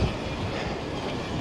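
A train at a mountain summit station rumbles with a dense, steady clatter of wheels and carriages, fairly faint and continuous, with no voices.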